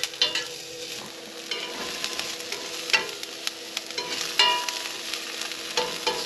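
Onions and garlic frying in a pan inside a camper, sounding as a constant close hiss with frequent crackles and light stirring scrapes, fairly loud, with no one speaking.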